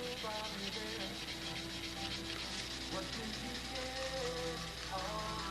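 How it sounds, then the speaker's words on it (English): Sandpaper rubs steadily back and forth over the surface of a Brodak Cardinal model airplane, a soft continuous scraping that lasts the whole time at low volume. "one piece of sandpaper like this is plenty to sand this whole thing out"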